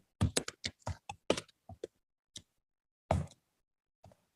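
Keys on a computer keyboard are tapped out in an irregular burst of sharp clicks while a search keyword is entered, then a short pause, one louder keystroke and a final faint tap; no one speaks.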